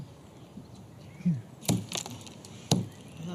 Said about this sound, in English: Smashing a few stinking shellfish is stomach-turning enough